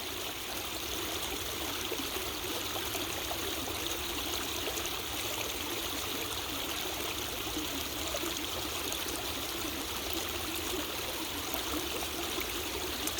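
A small outdoor stream flows steadily, with a continuous close-up rush and trickle of water and no voices or other sounds.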